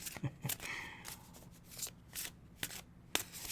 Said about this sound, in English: What does your oracle card say?